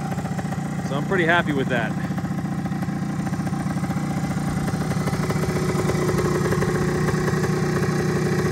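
A restored 1974 Yamaha DT360A motorcycle engine idles steadily and close by, a constant mid-pitched drone throughout, with someone briefly talking over it near the start.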